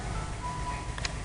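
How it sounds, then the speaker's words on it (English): A short electronic phone notification chime rises briefly near the end, faint over steady low background hum. "Don't worry, that was my phone"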